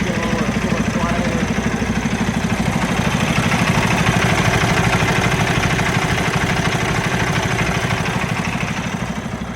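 A truck engine idles close up with newly replaced belts turning, giving a steady mechanical clatter and even whirring hum that swells slightly midway before easing off.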